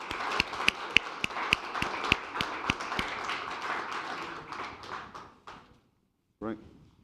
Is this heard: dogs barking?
no